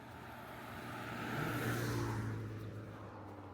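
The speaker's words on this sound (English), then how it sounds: "but here's one car. I'll sort of let it pass here." A car passes on a road beside a hiking trail, its broadband whoosh swelling to a peak midway and fading away, alone with no talk.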